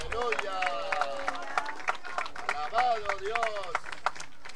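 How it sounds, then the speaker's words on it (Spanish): Church congregation clapping at a united worship service, scattered sharp claps mixed with crowd noise while voices call out and talk over it, fairly faint overall. "Denle un aplauso a Jesucristo."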